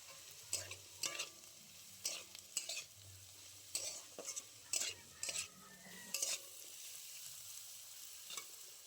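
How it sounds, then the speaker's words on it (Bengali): Spoon stirring a spiced potato filling for kachori in a pan, with chili powder, turmeric and salt mixed in: repeated scraping strokes in bursts over a soft background sizzle, fairly close and moderate in volume, no talking. "লঙ্কার গুঁড়ো অল্প খুব ভালো করে নাড়াচাড়া করে নেব"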